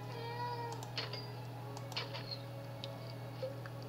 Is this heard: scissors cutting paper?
no